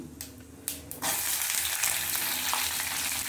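Chopped onions for a masala dosa potato filling drop into hot oil in a pan with a burst, then sizzle loudly and steadily, with a few stirring scrapes near the start.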